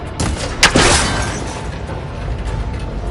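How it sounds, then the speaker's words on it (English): A single sharp shot in a video game strikes and breaks a cable connector, a crisp crack followed by a metallic burst and a rumbling, decaying tail, with steady background ambience continuing afterward. "It should break if I shoot it."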